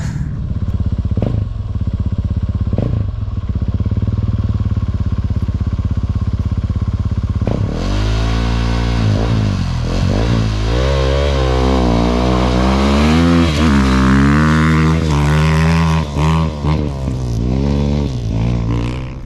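Loud, close rally motorcycle engines at the start of a race in Morocco roar and rev continuously, pitches rising and falling as the bikes accelerate, with a dense mechanical drone throughout.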